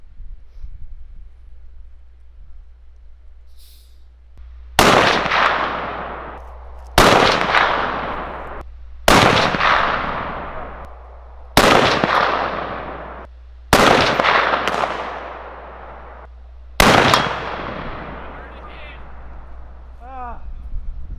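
Six rifle shots hit Tannerite targets one after another, each a loud, sharp blast with a long rolling echo that fades before the next, spaced about two seconds apart in open outdoor air.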